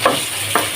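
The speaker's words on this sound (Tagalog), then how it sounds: "Prito muna natin yung ating hotdog." Hotdogs fry in a pan for soup, a steady sizzle broken by two short scraping stirs.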